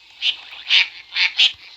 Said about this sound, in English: Sounds like a call duck.